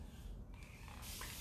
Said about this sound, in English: spraying water everywhere